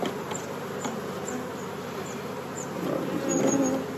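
A small swarm of honeybees at a hive, a steady close buzzing hum with occasional individual bees zipping past, growing a little louder and denser toward the end.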